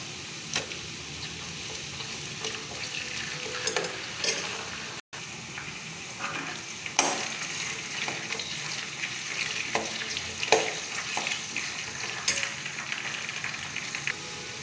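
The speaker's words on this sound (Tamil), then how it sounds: "வெங்காயம் வதங்கினதும் பூண்டு" Chopped onion and garlic sizzle in hot oil in a pan for a garlic kulambu, a steady frying hiss broken by intermittent scrapes and stirs, close and alone.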